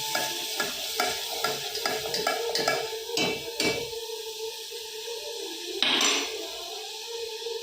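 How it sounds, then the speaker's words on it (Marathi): Masala dal ingredients roast in a pan while a spatula stirs them, giving a run of rhythmic scraping and clinking strokes over a soft sizzle, then a quieter stretch with one sharp scrape near the end. "आता हे भाजून घेतो चांगलं"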